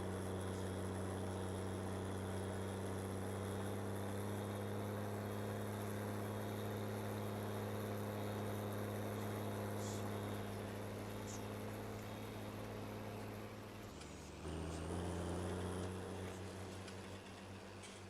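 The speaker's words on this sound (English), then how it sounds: "This little tractor is actually quite powerful" A small tractor engine runs steadily nearby, a loud, even droning hum with a strong low tone that dips briefly and shifts pitch before carrying on, with no talk.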